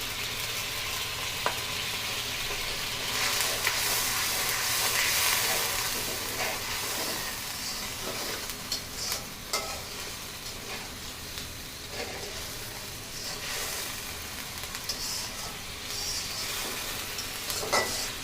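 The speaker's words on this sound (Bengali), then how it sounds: "এইভাবে আরেক কিছুক্ষণ আমি কষাবো" Turmeric, chilli powder and other spices for a hilsa fish curry with cucumber fry in oil in a pan, a loud continuous hiss and sizzle with intermittent scraping and tapping of stirring throughout, no talking.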